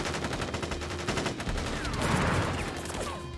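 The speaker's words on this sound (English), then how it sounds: "We make our stand here! Ready, aim, fire!" A gunfire volley from soldiers in the video game Crisis Core Final Fantasy 7, with dense rapid shots running together into a loud burst that swells near the end of the stretch.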